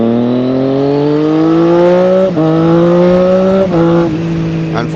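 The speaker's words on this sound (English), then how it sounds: "Give the boys a little bit of a rev." Motorcycle engine revving loudly and close, its pitch climbing steadily in a smooth run, then dipping sharply twice at around the two-second mark and again near four seconds before rising again; no voices.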